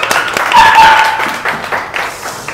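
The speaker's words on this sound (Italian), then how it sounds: "Applausone!" An audience at a ramen bar near the Trevi Fountain breaks into loud, dense clapping that fades slightly over a few seconds, with some voices mixed in.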